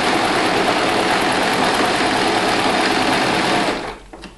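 A domestic sewing machine stitching a zigzag pattern runs in a fast, steady, loud buzz for almost four seconds, then stops abruptly, leaving only a few faint clicks.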